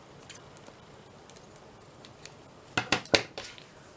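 Scissors cut through lace for a scrapbook page, a few faint snips early on, then three sharp, close, crisp cuts in quick succession near the end, no talking.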